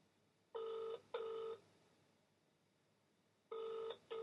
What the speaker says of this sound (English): We are ringing Ryan Pritchard, a friend of ours.